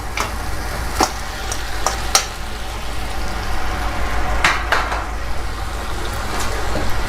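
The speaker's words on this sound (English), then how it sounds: "You have to mix them very well like this with the onions." Fried eggplant is stirred with onions in a sizzling pan: a steady frying hiss runs throughout, with a few scraping and clicking touches of the utensil against the pan.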